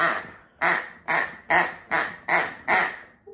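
A duck quacks loudly seven times in a steady, evenly spaced series, each quack a harsh, nasal burst close to the microphone.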